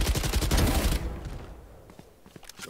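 Loud rapid video game gunfire rattles for about a second, then cuts off, leaving faint scattered clicks and low background noise.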